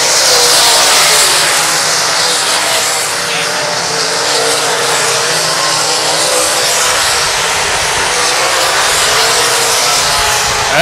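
Race cars roar around the Lakeside Speedway oval, a loud, continuous wash of engine noise that stays dense and steady with no clear breaks.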